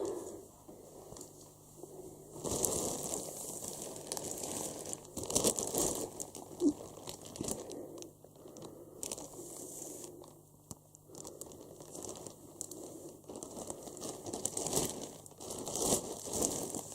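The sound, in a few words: paper packaging crinkling while unpacking plush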